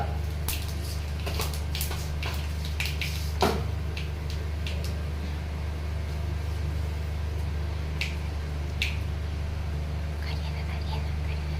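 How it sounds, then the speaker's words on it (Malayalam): Mustard seeds, added with a pinch of fenugreek to browning onion, pop in hot oil as scattered sharp crackles, some in quick bursts, over a low steady hum. "കടുക് പൊട്ടി വന്നു"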